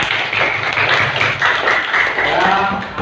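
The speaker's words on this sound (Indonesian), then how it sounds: "Terima kasih dan kita beri tepuk tangan" Classroom of schoolchildren clapping for a student group, a sustained patter of many small hands with voices chattering over it, fairly close and continuous.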